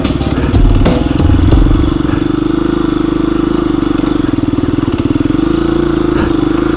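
KTM 350 EXC-f dual sport motorcycle creeping slowly over rocks, its single-cylinder engine thumping at a low, steady idle-like pulse up close, with brief rattles and clatter early on.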